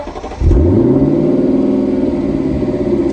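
A rare car's engine revs up hard and loud after a brief quieter idle, then holds a steady, close, throaty roar with a rising pitch sweep at the start.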